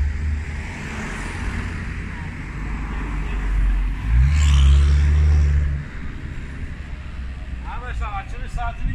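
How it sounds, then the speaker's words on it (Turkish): A car passes close by on a road in Austria near a Hofer supermarket, rising to a loud rumbling swell and fading away, with steady traffic hum beneath and a brief voice near the end. "Araba çok geçiyor."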